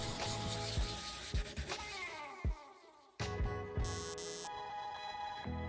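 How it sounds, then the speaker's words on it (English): Sanding spilled glue off the wooden corners of a box lamp makes a steady scratchy rubbing close by, broken by a few knocks and short pauses, with a harsher burst of sanding near the end. "so we can go ahead and sand that down"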